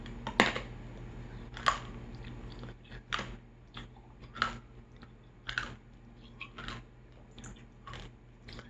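A Lifesavers Wint-O-Green mint is crunched between the teeth in a series of sharp, close bites and crackles spaced about a second apart, quiet and with no talking.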